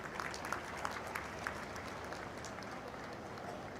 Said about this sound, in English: And a round of applause for all of you as well.